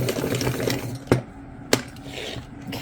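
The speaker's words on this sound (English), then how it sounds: "so we're going to sharpen this one" A pencil sharpener working on a Spectrum Noir ColourBlend colored pencil gives a steady close-up mechanical whirring grind, broken by two sharp clicks partway through.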